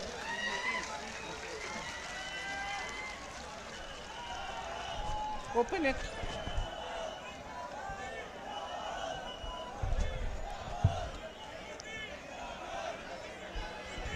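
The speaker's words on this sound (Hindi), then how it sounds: "जोरदार तालियों से आदरणीय प्रियंका जी का स्वागत कीजिए" A large crowd at an outdoor political rally welcomes Priyanka Gandhi with a broad, continuous wash of applause and cheering that swells in places, with an amplified voice over a loudspeaker at times.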